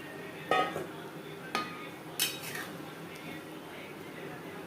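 Fried katla fish being added to a potato and fish gravy in a pan, marked by three sharp utensil clanks against the pan over a quiet kitchen background.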